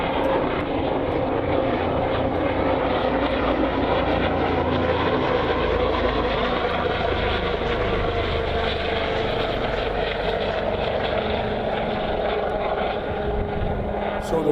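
A Sikorsky S-97 Raider compound helicopter with a pusher propeller flies past during test flights at Redstone Arsenal in Huntsville, giving a sustained rotor and propeller roar that stays steady and fairly loud without pause.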